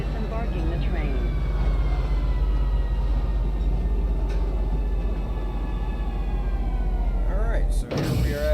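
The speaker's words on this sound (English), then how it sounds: "Arriving Central Station. Please watch your step when disembarking the train." Train arriving at Central Station in the video game Star Citizen: a steady, loud low rumble with whining tones carries on throughout, then a sharp hiss and clatter near the end as it comes to a stop, with a voice speaking over it.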